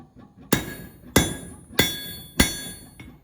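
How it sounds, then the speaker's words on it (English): Blacksmith hand-forging the hinge boss of steel box jaw tongs on an anvil with a rounding hammer: four loud, evenly spaced ringing blows, then a fainter fifth tap, with quiet clinks between strikes. "Using a combination of my rounding hammer and the flat side, and just work it down."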